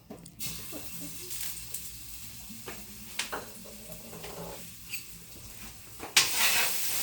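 Garlic sautéing in cooking oil in a pan for beef sinigang, a soft steady sizzle with occasional utensil scrapes and a louder burst of hissing near the end.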